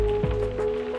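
Rain in the video game Reverse: 1999, a steady soft patter of drops on surfaces that holds evenly and alone under a low, constant background tone.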